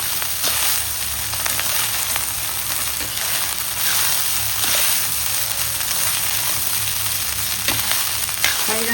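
Lemon rice with coriander being stirred in a hot pan, a steady broadband frying hiss throughout with faint scraping of the spoon, close and continuous, no talk.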